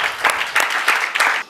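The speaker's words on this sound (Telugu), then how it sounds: "చప్పట్లు కొట్టండి బిగ్గరగా." A church congregation clapping loudly during a sermon, a few rhythmic bursts of clapping in a steady pulse, close and fairly loud, ending abruptly.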